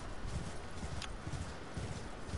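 Horse hooves clip-clop at an even walking rhythm in the Elden Ring video game. The loud, close steps run through the whole stretch with no speech.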